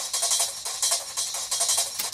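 Fast, shuffly drum break sample pulled from a library, a bright busy loop of crisp hits and ride-like cymbal wash repeating quickly at moderate level with no voices.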